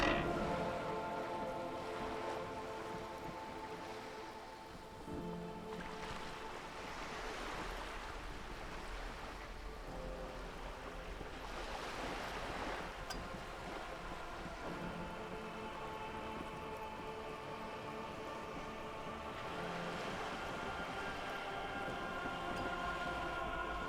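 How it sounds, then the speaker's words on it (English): Wind flapping a boat sail in the video game Disco Elysium, a steady rushing, surf-like wash with broad gusting swells that rise and fall continuously over a low ambient rumble, no voices. "The wind flaps the sail above her."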